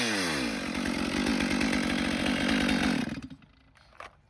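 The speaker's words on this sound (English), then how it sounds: "when you're boring into the tree, the top of your bar is gonna designate the direction that the chainsaw is gonna want to naturally kind of pull you" A chainsaw bores into a standing tree trunk during felling, running loud and steady at full throttle close by for about three seconds before the engine drops away to idle, with a brief knock near the end.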